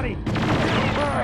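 Rapid gunfire from a machine gun in the video game Perfect Dark, a loud burst of close, rattling shots starting abruptly after a brief pause and continuing without a break.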